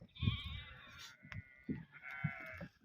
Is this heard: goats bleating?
yes